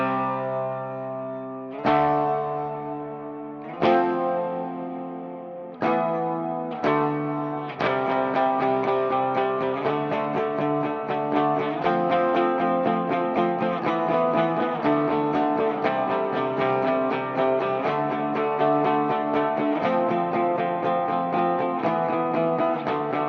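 An electric guitar riff plays through an ML Sound Lab ML800 amp simulation with a Space Ambience effect, starting with a few spaced, ringing chords and then moving into sustained, washy, reverberant playing, loud and alone for over twenty seconds.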